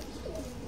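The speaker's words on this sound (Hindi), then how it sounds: "बहुत ही शानदार कबूतर, बहुत ही अच्छी बनावट का कबूतर" A fancy teddy pigeon on a rooftop coops gives a soft, low cooing call, close and fairly quiet, with a faint warble rising and falling over a brief moment.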